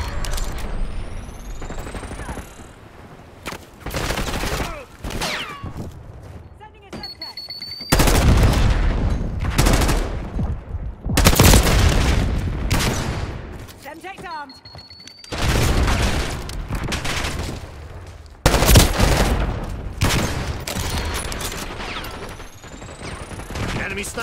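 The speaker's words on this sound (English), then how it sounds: "Enemy sniper shooting." Heavy gunfire and booming blasts from an online Team Deathmatch match in Call of Duty Black Ops 6, with loud bursts and rapid volleys recurring across the whole stretch, mixed with game effects and occasional voice callouts.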